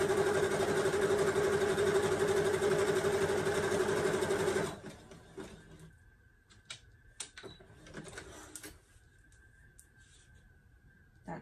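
A sewing machine runs a zigzag stitch along a shirt seam, a fast even mechanical chatter at close range for about four seconds, then stops, leaving faint handling clicks and rustles.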